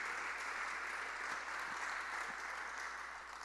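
A church congregation applauds together in a steady, dense wash of clapping that fills the whole stretch evenly and sounds close and loud throughout.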